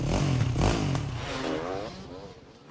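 Motorcycle ridden by a rider in the video game Trials Rising, its engine droning and revving loudly with clattering mechanical noise, fading slightly toward the end.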